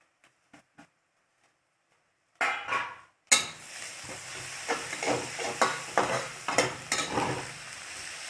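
Garlic added to browned onions in a pan for chicken masala: a few soft taps, then a sudden loud sizzle that settles into steady frying, broken by repeated scraping stirs and utensil clinks against the pan, close up and without talk.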